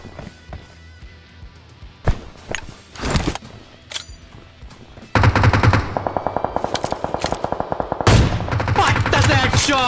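Gunfire in the mobile battle royale game PUBG Mobile, first as scattered single shots, then loud rapid automatic bursts in a fast rhythmic stream close to the player.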